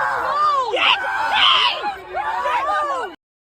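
A man screams and yells during a physical scuffle, loud anguished bursts rising and falling over about three seconds, with other voices shouting nearby before cutting off abruptly.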